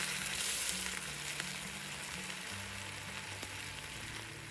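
A bottle gourd curry simmering in a pan after milk has been poured in; a soft, steady sizzle and bubbling plays quietly throughout, with no voices.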